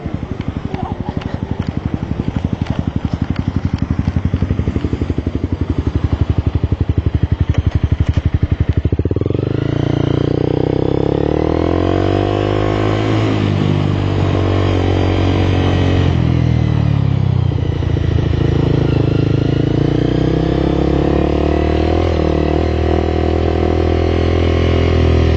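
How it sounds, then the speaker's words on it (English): A motorcycle engine runs close by on the road, a steady rhythmic putter that shifts into a louder, fuller revving roar midway, with faint voices now and then. "I gotta get my bike out of the road."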